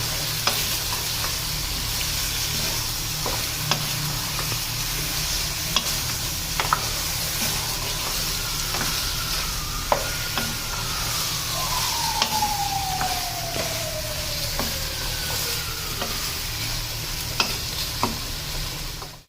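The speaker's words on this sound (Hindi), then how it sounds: "उसके साथ थोड़ा बैंगनों को भून लेंगे" Steady sizzling of eggplant and potato frying in a pan with green chili paste, with scattered clicks and scrapes from stirring, close by and continuous, with no talking.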